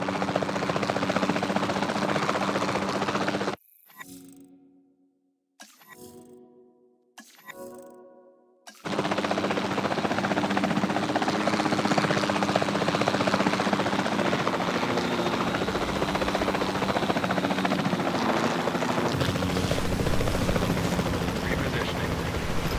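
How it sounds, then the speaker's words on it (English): A capture team helicopter in Jurassic World Evolution 2 drones loudly and steadily with rotor chop, cutting out briefly to near silence in a few bursts before returning at full strength, with faint rattling gunfire-like clicks mixed in. "Then the sensible thing is to take a capture team helicopter."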